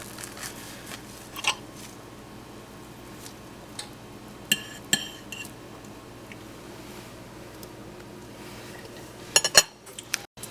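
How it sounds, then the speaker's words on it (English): Faint scrapes and clinks of cutlery cutting a piece of buttermilk gingerbread pancake on a plate, a few sparse taps over a quiet room, with a sharper clatter near the end. "Now let me just cut a little piece off."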